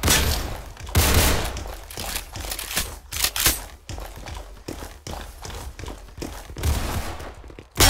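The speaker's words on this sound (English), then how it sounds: "What are they shooting at? Oh, never mind. I thought they were shooting at the wall." Rapid virtual gunfire in the Roblox game Murder Mystery, made up of dense, loud, repeated sharp shots and clattering bursts that continue across the whole stretch.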